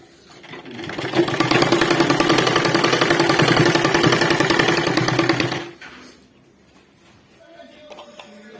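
Sewing machine stitching lace piping along a neck edge, a steady rapid whirring run of about four and a half seconds that stops abruptly, leaving quiet room sound and faint voices afterward.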